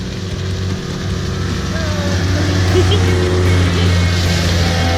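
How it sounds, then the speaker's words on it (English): Motor dinghy carrying a small group of boys across the sea off Marea del Portillo, Cuba, its outboard engine a loud continuous drone with steady hum close by, wind and water noise layered over it. "so Rich and Andy from Sandy Feet each loaded 3 boys into their dinghies and took them for a ride"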